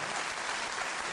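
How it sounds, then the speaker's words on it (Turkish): Steady, dense applause from a concert audience at a Turkish classical music choir performance in Bodrum, a continuous wash of many hands clapping with no speech over it. "bir kez daha alkışlamanızı rica ediyorum"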